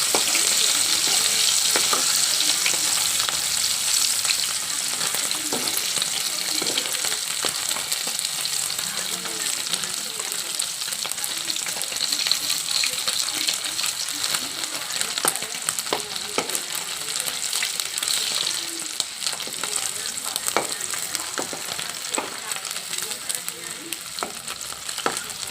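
Salted dried fish fries in hot oil, a loud continuous crackling sizzle with frequent sharp pops and scraping stirs throughout.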